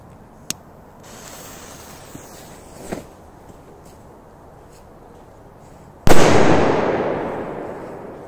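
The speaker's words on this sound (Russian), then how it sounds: "Просто мощнячие петарды." Powerful firecrackers outdoors: a few faint pops and distant cracks, then one sudden loud close blast that rolls into a long fading rumble and hiss.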